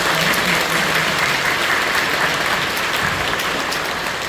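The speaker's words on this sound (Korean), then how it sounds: "박수를 부탁드립니다" A church congregation claps together during a worship service, a dense, steady round of applause that holds at full volume throughout, with no voices over it.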